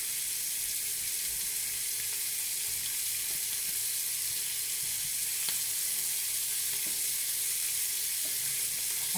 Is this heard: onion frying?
yes